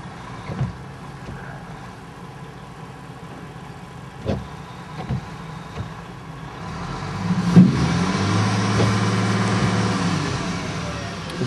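An 18-wheeler stuck in winter snow sounds from a distance: its engine idles quietly with a few soft thumps, then surges into a louder, sustained roar as the wheels spin.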